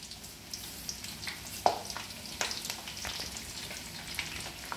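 Fresh green curry leaves fry in hot oil while a spicy tomato pickle is being made, giving a steady soft sizzle broken by small pops and crackles at close range.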